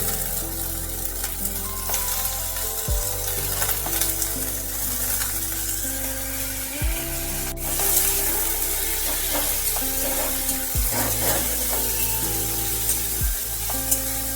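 Chicken mince, seasoned with vinegar and soy sauce, frying in a pan for a chicken kachori filling: a steady, loud, close sizzle with occasional stirring scrapes and no talking.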